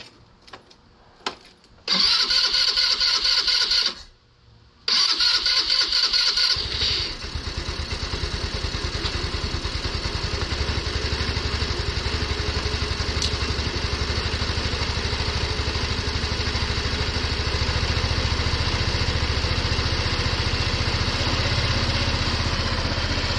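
A 150cc engine, likely a scooter or small motorcycle, cranks briefly twice, then catches and settles into a steady, loud, close idle that runs on alone.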